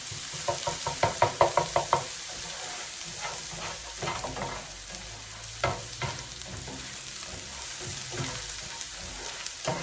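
Meatballs frying in a soup pan: a burst of quick utensil knocks at the start, then a continuous low sizzle with occasional stirring taps and clinks.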